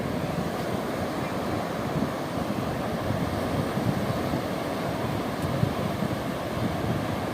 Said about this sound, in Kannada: ಸಮುದ್ರದ ನೀರು ಹೇಗೆ ಬರ್ತಾ ಇದೆ